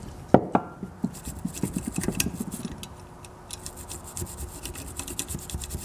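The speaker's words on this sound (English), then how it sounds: "Maybe a nylon brush." Nylon-bristle brush scrubbing the rotor of an antique Century repulsion-start induction electric motor, a run of quick close rasping strokes, busy and irregular at first and then settling into lighter, steadier scratching.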